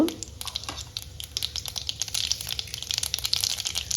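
Mustard seeds and asafoetida fry in hot oil in a wok, giving a dense crackle of rapid pops and spatters over a low steady sizzle, close and continuous.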